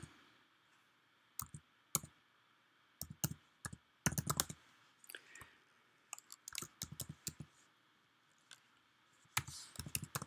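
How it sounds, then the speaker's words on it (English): Someone types an email address on a computer keyboard in short, irregular bursts of quiet, close key clicks separated by pauses. "let's try that again. We'll type in Gary's email"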